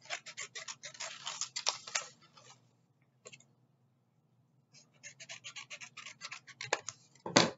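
Scissors snip through paper while cutting out mitten shapes for a craft, a series of close, crisp cutting strokes in bursts, then a pause, then more steady snipping.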